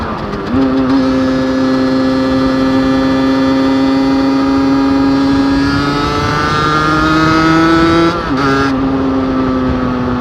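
A Beta 50RR 50cc motorcycle engine buzzes steadily nearby with an unusual noise, its whiny pitch creeping upward with a brief dip and recovery near the end.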